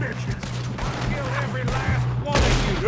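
Gunfire in the video game Red Dead Redemption 2, a volley of rapid overlapping shots and booms over about three seconds, with game voices talking over it.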